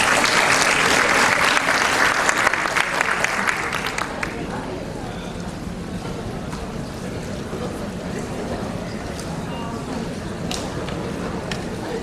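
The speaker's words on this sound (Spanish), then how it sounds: "Vamos a recibirlo con un fuerte aplauso." Audience applause welcoming a speaker at a talk at a hospital's global health and equity program, loud broadband clapping for about four seconds that then fades into a quieter room murmur.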